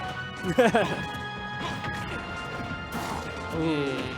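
Forward smash attacks landing in a Super Smash Bros tournament match between Wolf and Richter, sharp impact cracks mixed with game effects under excited commentary.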